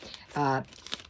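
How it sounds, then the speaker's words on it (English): Paper backing peels off a fusible Heat and Bond sheet with short, close crinkling rustles, broken briefly by a voice sound in the middle. "you peel off the paper"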